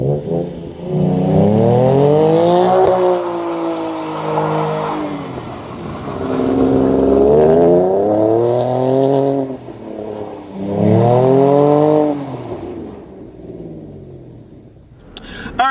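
Car engine revving hard in repeated rising and falling surges while doing donuts in snow, loud and close, with no talking.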